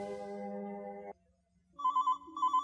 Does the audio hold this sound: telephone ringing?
yes